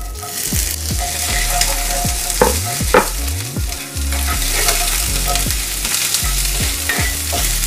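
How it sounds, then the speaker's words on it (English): Chopped onion sizzles in about a tablespoon of hot vegetable oil in a pot, a loud steady frying hiss broken by repeated scraping and clacking of a stirring utensil, with no one talking. "Now I'm going to add 1 onion chopped."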